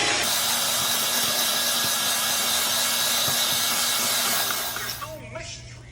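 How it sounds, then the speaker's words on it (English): An electric mixer whisks meringue as sugar is added for lemon meringue cupcakes, a loud continuous whirring hum that winds down and cuts off near the end. "So soft peaks have formed, so I'm gonna enter my sugar. And I'm gonna whisk more."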